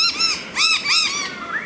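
Noisy miner birds, Australian honeyeaters, calling outdoors near a budgie cage: a burst of harsh, repeated scolding chirps in quick overlapping volleys, loud and close, with no talk.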